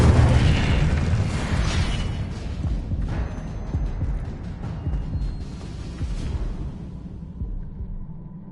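Spell blasts from Hogwarts Legacy, including Confringo and Incendio: a loud, rumbling, booming explosion at the start that slowly decays into a low hum and fades out.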